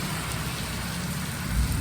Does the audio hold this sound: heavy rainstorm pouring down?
yes